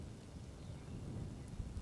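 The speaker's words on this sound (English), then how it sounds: "Rain's still coming." Steady rain falls on a street during an outdoor RC car run, a dense, even hiss with low rumbling underneath and no voices.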